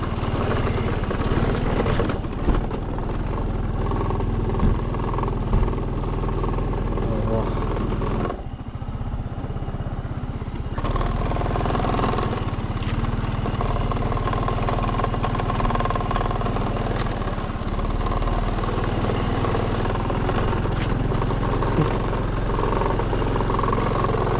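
An old vehicle strains to climb a forest slope, its engine a loud, sustained rumble that briefly drops away and then returns labouring at the same heavy drone.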